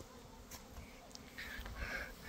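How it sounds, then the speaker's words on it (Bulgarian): A swarm of honey bees buzzes as it moves into a beehive, a soft, continuous hum with a few louder passes of individual bees near the end, heard alone without talking. "Пчелите са в роево състояние."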